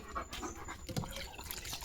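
A German Shepherd pants rapidly and steadily up close, quick breathy puffs with no talking.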